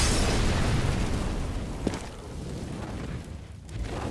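A flashbang grenade goes off in Counter-Strike: Global Offensive during a DreamHack Open Cluj-Napoca match, a loud broad blast that trails off into a long rumbling decay with a few faint clicks, and no talk over it.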